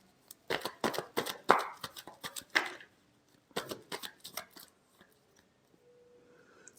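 Tarot cards being shuffled by hand in a series of crisp riffling bursts, close and clear, pausing briefly midway before a second round and then trailing off into near silence.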